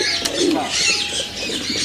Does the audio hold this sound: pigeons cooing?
yes